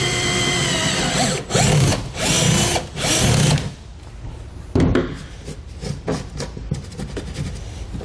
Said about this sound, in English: We're going to mark our holes, and we'll get them drilled out. For this, we'll use a 3/8 inch to match our bolt size.